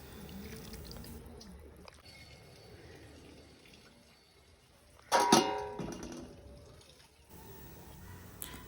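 Sago pearls are washed in water by hand, making quiet sloshing and trickling with a louder burst of splashing and pouring midway, then faint dripping.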